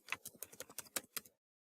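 Quick, crisp keystrokes on a computer keyboard, about eight taps in an uneven burst while a short database command is entered in SQL Workbench, close and clear with nothing else around them.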